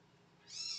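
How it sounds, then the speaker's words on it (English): Kittens meowing, a thin high cry that swells in over the second half of the short clip after a quiet background hum, fairly close and with no voices. "Whenever those kittens cry, my cat comes running."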